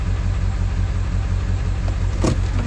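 A Ford Powerstroke 7.3 diesel truck engine idles roughly with a loping, uneven rumble, loud and close, pulsing steadily with a slight stumble near the end.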